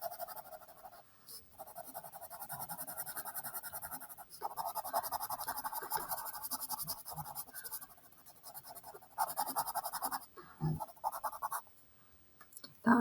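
Pencil or marker scratching steadily across paper while a picture is colored in with yellow, in close, quiet bursts of rapid strokes separated by short pauses.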